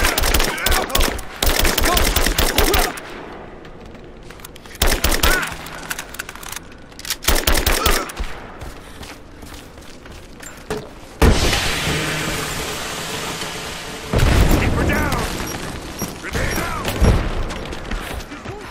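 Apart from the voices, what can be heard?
gunfire in the video game Rise of the Tomb Raider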